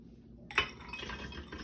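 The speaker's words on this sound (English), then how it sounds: "We're going to add our ingredients to the blender." Fruit for a triple berry kiwi smoothie (cherries, raspberries, blueberries and kiwi) tumbles into a glass blender jar. A sharp clink comes first, then a run of softer knocks and rattles, close by and fairly quiet.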